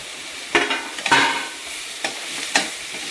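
Carrot, capsicum and potato with chili flakes being sautéed in a pan, with a steady sizzle and a few distinct spatula scrapes spaced about half a second apart.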